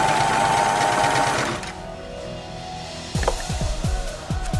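A sewing machine stitches a denim and chiffon skirt, running in a steady whir at first, then pausing before a few short, close bursts of stitching.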